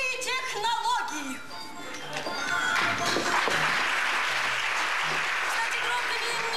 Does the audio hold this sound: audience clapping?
yes